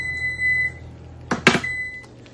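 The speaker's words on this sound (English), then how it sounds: "Oh, got something in my oven. Hold on while I shut that timer off." A kitchen oven timer sounds a steady electronic tone for about two seconds, broken near the end by a short clatter of handling.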